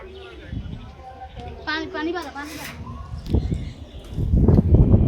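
Pigeons released from a loft flap and flutter in brief bursts, with soft coos nearby, while people talk over them throughout.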